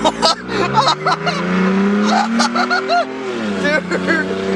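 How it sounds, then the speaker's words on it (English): A straight-piped Toyota Tacoma pickup launches from a light, its loud engine revving hard with a raspy, rising roar while people shout and cheer over it close by. "Grant, as soon as the light turns green, just put it to the floor. Just launch it"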